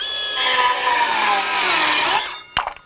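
A Milwaukee M12 FUEL Gen II 5-3/8 inch cordless circular saw rips through wood at full depth, its high whine held steady and slightly bogging under load before the blade spins free and the cut ends with a clatter.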